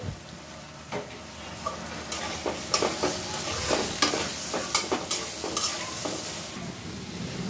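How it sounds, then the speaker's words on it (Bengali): Potatoes fry in oil in a pan with salt, a steady loud sizzle broken by repeated scraping stirs of a spatula, no voices. "আলুগুলো সুন্দর করে লাল লাল করে ভেজে নিব"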